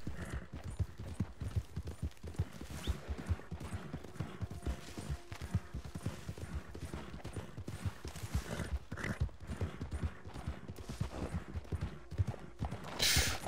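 Steady galloping hoofbeats from a ridden horse in wintry Red Dead Online, a continuous rhythmic clatter at moderate level, with faint game effects and little talk.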